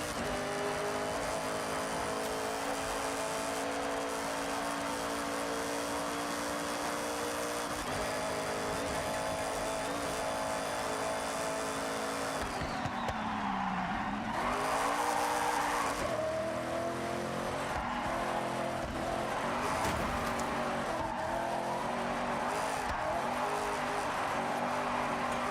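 Mazda Miata engine in Forza Horizon, a steady loud drone that dips and rises in pitch through gear changes and cornering, with tire squeal and skidding woven in midway, continuous and close with no talk.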